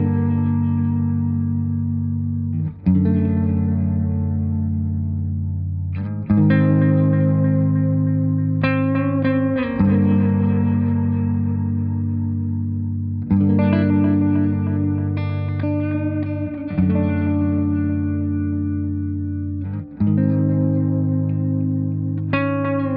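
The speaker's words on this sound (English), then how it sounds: "So that's the Space Echo." An electric guitar runs through a Space Echo effect, with sustained chords struck every few seconds, each swelling into long, repeating echo tails that decay slowly, loud and alone.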